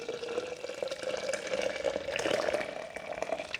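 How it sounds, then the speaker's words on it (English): Hot water pours into a can of syrup for a mango pale ale homebrew kit, a continuous close splashing fill lasting a few seconds with no talk. "use some more hot water and just pour in the can"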